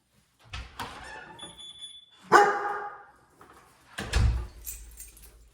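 Several dogs give a few short, loud barks during a quiet-for-treats training game, separated by brief pauses.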